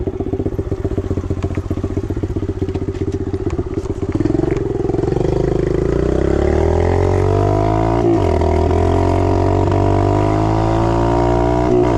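Pit bike engine with fuel dripping from a smoking exhaust, idling with a rapid uneven putter and a few stumbles, then revving up into a louder rising drone that wavers and dips as if cutting out, close by.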